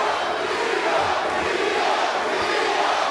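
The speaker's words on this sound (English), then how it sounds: "You hear the crowd trying to support Angelo Leo, Albuquerque's very own." Boxing crowd in Albuquerque roaring steadily in support of hometown fighter Angelo Leo during his bout with Luis Alberto Lopez, a dense, continuous wash of voices with no clear breaks.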